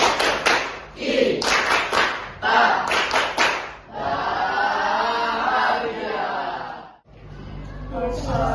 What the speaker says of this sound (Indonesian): Kita sambut kelompok 1 dengan tepuk bahagia